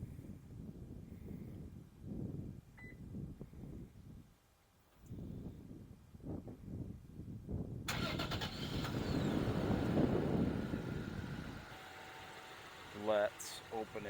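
A car fitted with an aftermarket START-X remote starter cranks and fires up, its engine rising to a steady idle rumble for several seconds before settling, with quieter handling noises and background sounds around it.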